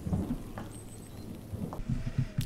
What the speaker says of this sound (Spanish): ¡Qué trueno!